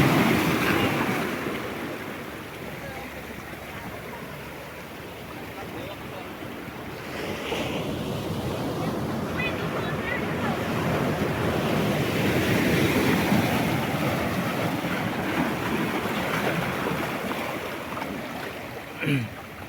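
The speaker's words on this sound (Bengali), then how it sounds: "সমুদ্রের গর্জন দেখুন।" Sea waves roar steadily off Chera Dwip at St. Martin's Island, a broad continuous surf rumble that swells around the middle, with wind buffeting the microphone throughout.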